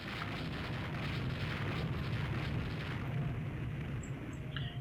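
Distant, rumbling warship gunfire in the naval game Rule The Waves 3, a steady dull roar of artillery booms blending into a continuous low wash, with no voices.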